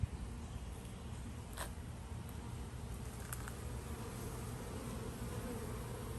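Young honeybees flying at the front of a backyard hive make a steady, dense buzzing hum of many insects close by, constant throughout and with no talk.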